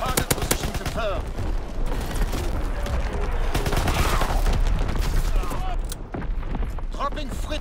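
Rapid gunfire from a primary weapon in Call of Duty WWII multiplayer, loud repeated shots and bursts crackling close by with explosive booms and a busy battle din, voices faintly mixed in.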